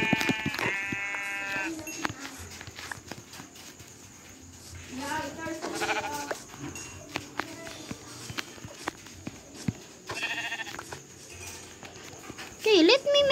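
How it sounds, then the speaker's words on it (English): Sheep in the video game Minecraft bleat in several short, quavering calls scattered across the span, interspersed with game clicks and effects. "because I found three sheep"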